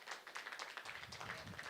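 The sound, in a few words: audience applause for musician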